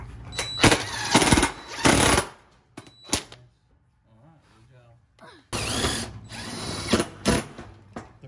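A power drill drives screws into a garage wall while a dog kennel is being built. Loud whirring bursts start and stop, with a short quiet gap in the middle before a long final run.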